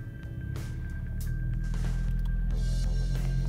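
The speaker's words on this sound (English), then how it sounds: "That's a 6-cylinder 3-litre turbo coming alive." A 3-litre six-cylinder turbo engine in a Porsche Panamera starting up: cranking catches and the engine settles into a steady, rising idle hum with a few mechanical clicks, close and moderately loud, without talk.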